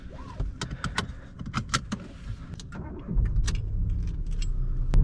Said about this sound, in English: let's get the car on and let's go for a drive